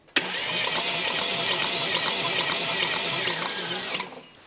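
A Mercedes GT63s AMG engine cranks on the starter during a compression test, a steady, loud, rapid rhythmic churning that runs for about four seconds without catching, then stops abruptly.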